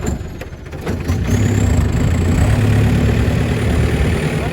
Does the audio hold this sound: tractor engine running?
yes